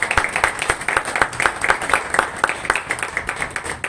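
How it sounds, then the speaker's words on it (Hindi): Rhythmic group clapping from the audience at a Hindi kavi sammelan poetry recital, a steady beat of loud, close claps repeating evenly for several seconds. "ताली बजती रहे तो जोश भरपूर आ जाता है।"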